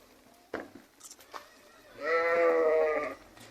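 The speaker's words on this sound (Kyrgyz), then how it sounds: "койлор жайыттан келди азыр." Arashan sheep returning from pasture give a single long, wavering bleat, near and fairly loud. A few faint thuds and a brief voice come just before it.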